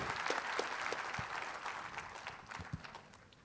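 Audience applause at a business panel discussion during a summer conference, a steady wash of many hands clapping that holds for a few seconds and slowly thins toward the end, with no talk over it.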